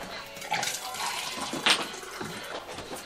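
Warm water runs steadily from a kitchen tap into a container for bread dough, a soft continuous splashing hiss with a brief brighter splash partway through.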